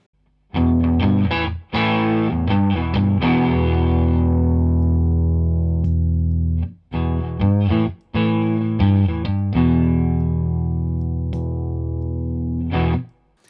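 An electric guitar through a Marshall Blues Breaker overdrive pedal, gain slightly reduced, plays strummed chords and sustained notes that ring out and decay, with a crunchy, defined tone and brief pauses between phrases.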